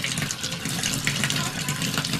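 Water runs from a shower tap on an off-grid water system, making a steady close-up rush and hiss that continues without a break.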